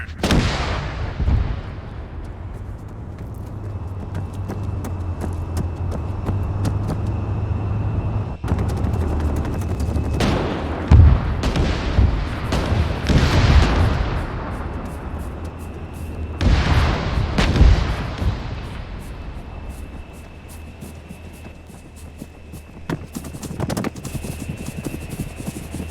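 Heavy gunfire and cannon blasts aimed at a tank in the ARMA III military game, with loud repeated booms and bursts across the whole stretch and a steady engine or rotor drone underneath, no voices.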